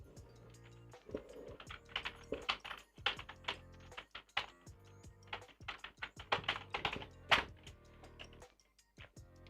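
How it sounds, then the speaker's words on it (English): Fingers type rapidly on a computer keyboard, a close, uneven run of sharp clicks and key thumps with brief pauses between bursts, and no voices. "typing out the zone ID here"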